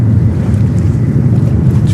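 Water lapping at high tide near JFK airport, picked up by an external microphone as a loud, low churning wash mixed with wind buffeting, steady and close throughout.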